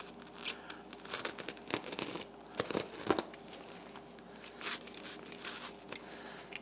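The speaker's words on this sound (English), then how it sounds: "Now I'm just gonna use my raggedy old scissors." Quiet, irregular snipping and crinkling as scissors cut through a stiff sheet of sound deadening material, with rustling and a few sharper cuts.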